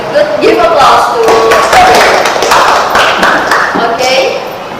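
Students in a classroom give a round of applause during a biology teaching practice lesson, close, energetic clapping mixed with excited voices, lasting a few seconds before easing off.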